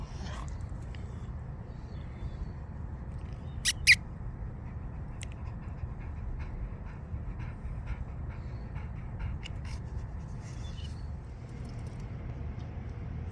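A dog pants steadily at close range behind the scenes of a shoot, a soft continuous breathy rhythm throughout with a couple of brief sharp clicks.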